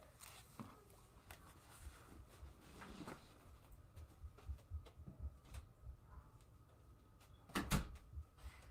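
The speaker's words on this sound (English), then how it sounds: "let me close my door" A door is shut indoors during a quiet home livestream: one firm, close thud near the end stands out against faint room noise and small scattered clicks.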